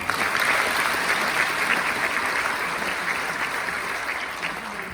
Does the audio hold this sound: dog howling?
no